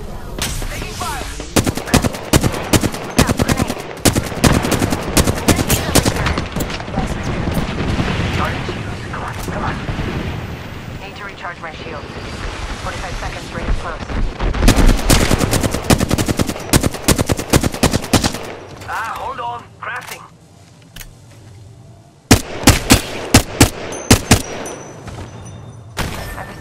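Gunfire rattles through a video game firefight, with long bursts of loud, rapid shots and heavy blasts filling most of the stretch, a brief lull near the end, then more sharp cracks.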